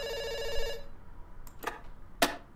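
A telephone rings in the Dr. Langeskov video game. The ring is loud for under a second, then cuts off, followed by a few short clicks or knocks.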